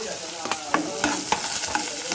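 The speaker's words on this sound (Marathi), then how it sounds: "आता कांदा घालतोय आणि कढीपत्ता" Onion and curry leaves sizzle in hot oil with mustard seeds and green chilli, a steady close frying hiss broken by sharp spattering crackles and stirring scrapes roughly every quarter second.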